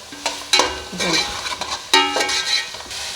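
Potatoes frying in a pan with tomatoes, green chili, ginger and garlic: a soft sizzle under repeated scraping and clinking as a utensil stirs the mixture, close up.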